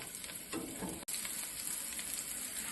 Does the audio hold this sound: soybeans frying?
yes